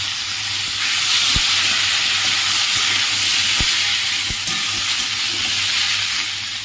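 Potatoes frying in hot oil with dried whole chillies and asafoetida, a loud continuous sizzle with a few sharp clicks of a utensil against the pan.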